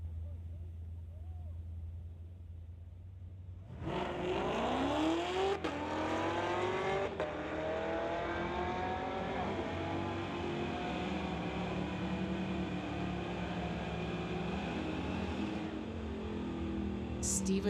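A 1973 Camaro and a 2020 Chevrolet ZL1 launch off the line at a drag strip, engines bursting into a loud, sustained roar with rising revs that hold steady as the pair pull away, after a quiet idling lead-in.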